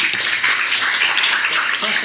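Audience applause fills a lecture hall at an inclusion-day talk, a steady, dense wash of clapping hands sustained throughout without pause or voices.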